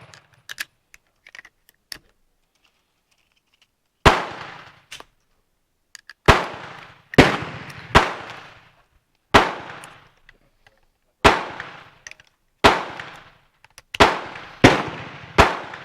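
Sharp gunshots from a Spanish Destroyer carbine ring out at a shooting range: a few faint pops, then about nine loud, close reports at irregular intervals of one to two seconds, each with a short decaying echo.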